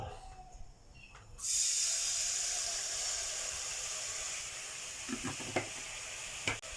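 After a quiet start, a loud, steady hiss of plain water heating to a boil in a hot wok takes over, with a few faint clinks near the end.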